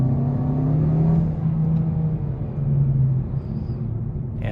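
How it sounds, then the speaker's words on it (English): The turbocharged engine of a 2020 Hyundai Sonata runs at higher RPM in sport mode, heard from inside the car. A steady, humming drone swells and dips slightly as the revs rise and ease off. "And of course you could hear the turbo sound at higher RPMs."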